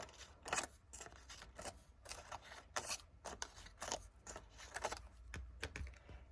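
Scissors snip between the petals of a paper flower, a quick series of close, crisp cuts in an uneven rhythm with no talking.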